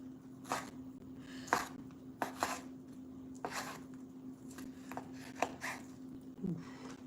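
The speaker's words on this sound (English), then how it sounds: "We're going to have to slice it down a little bit more to get the desired texture." A knife slices steak for tacos on a cutting board, giving quiet irregular taps and soft slicing strokes up close over a faint background hum, with no talking.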